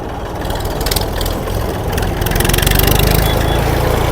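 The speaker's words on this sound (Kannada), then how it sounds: "ಇವತ್ತು ನಮ್ಮ ಹತ್ರ ಇದೆ ಮ್ಯಾಸಿ ಫರ್ಗುಸನ್ 1035 36 HP ಗಾಡಿ" A 1993 Massey Ferguson 1035 36 HP tractor engine idles loud and close, a steady low diesel chug that swells slightly toward the end.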